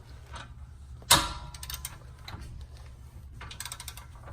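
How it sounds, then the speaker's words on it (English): A torque wrench set to 140 foot-pounds tightens a bolt on a NEUSPEED rear torsion bar fitted to a Fiat 500 Abarth, giving one sharp, loud click followed by faint mechanical ticks over a low steady rumble. "All right, now we're going to take our torque wrench"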